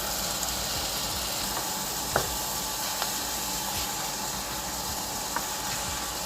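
Shrimp sizzling in a pot with onions and mushrooms, a steady broadband frying hiss with a few faint clicks and stirs, close and even throughout, no talk.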